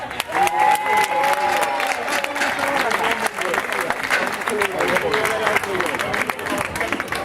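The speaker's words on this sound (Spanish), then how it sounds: "Un aplauso, anda." Lively crowd applause at a prize-giving ceremony, continuous clapping mixed with cheering and overlapping voices throughout.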